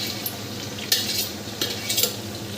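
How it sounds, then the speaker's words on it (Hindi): Onion and garlic fry in a hot pan for a red sauce, a steady close sizzle with a few sharp scraping stirs of a utensil against the pan, no voices. "सो प्याज हल्का हल्का पकता जा रहा है, क्योंकि इसका टेम्परेचर भी वैसे भी हाई है"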